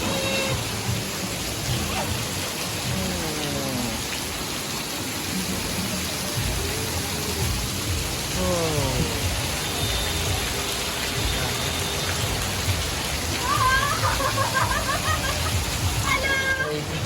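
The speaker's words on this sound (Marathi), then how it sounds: "पाऊस" Heavy rain pours down in a steady, dense hiss throughout, with people talking underneath it.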